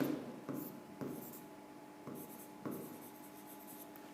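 A pen scratches out calculations on paper in short, soft strokes with small pauses, faint and close in a quiet room.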